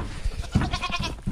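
Goats bleat at a hay feeder on a farm in the morning, a few short nasal calls mixed with rustling and shuffling, fairly close and moderately loud.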